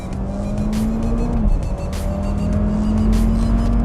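A rally car, Lancer EVO or Impreza STI Spec C, at full throttle toward the finish, a steady loud engine drone with a brief pitch dip as it shifts, then pulling on, heard from inside or close by.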